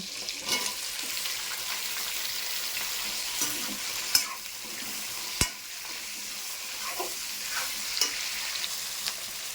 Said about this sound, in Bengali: টমেটো দিয়ে দেবো ক্যাপসিকাম কুচি আর পেঁয়াজ কুচি